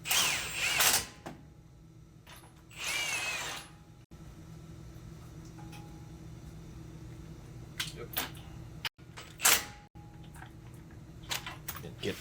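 Ratchet clicking as it turns a 21 mm socket on the front wheel bearing and hub assembly of a Ford F-150, bursts of rapid clicks separated by quieter gaps with low shop hum underneath.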